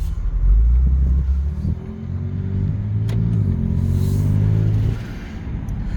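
A 2024 Genesis G70 in sport mode accelerating, its engine and exhaust giving a deep, steady rumble that swells in a strong low surge, holds through a rising pull and then eases off, close and loud with no talk over it.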